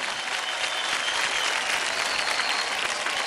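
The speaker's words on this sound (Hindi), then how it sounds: "जोरदार ताली हो जाए प्रिंस एंड बेकी के लिए।" A studio audience on a televised dance competition claps loudly after a dance performance, a dense continuous burst of many hands with a bright crowd roar and no talk over it.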